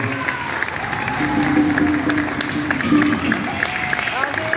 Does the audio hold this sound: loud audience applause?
yes